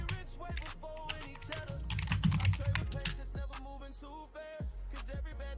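Rapid, forceful typing on a computer keyboard during a live futures trading session, a dense run of sharp clacking keystrokes over faint background noise.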